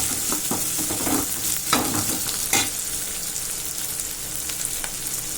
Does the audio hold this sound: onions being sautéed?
yes